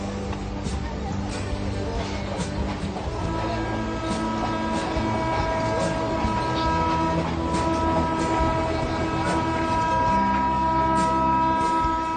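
Passenger train in Amapá, Brazil rolling steadily on its rails near the equator, a continuous loud rumble with wheel and carriage noise throughout, with some voices faintly mixed in.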